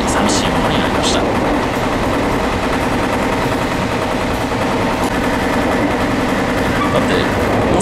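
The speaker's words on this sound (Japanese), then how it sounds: "もうそろそろ列車は今川を渡って" Limited express train running on rails between Kumamoto and Hakata in Kyushu, heard from on board: a loud, continuous rumble of wheels on track with steady clickety-clack rhythm and sharp rail clicks.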